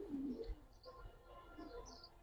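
Pigeons coo softly in low, throaty bursts, a few separate calls close by against a quiet background, with faint higher chirps scattered in between.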